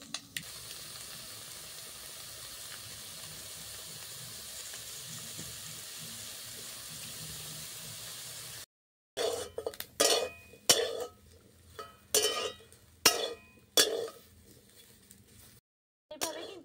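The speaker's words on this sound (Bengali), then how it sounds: "এরপর এই বোনলেস চিকেনগুলো আমি ভেজে নেব। কড়াইয়ের মধ্যে দিয়ে দিচ্ছি।" Boneless chicken frying in a hot wok, a steady hiss of sizzling oil, then clattering stirring scrapes and louder bursts of sizzle in irregular pulses.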